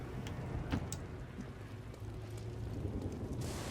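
Steady rain in a quiet video game level with a train, a soft continuous hiss with faint scattered patters and a low rumble underneath, no music or voices.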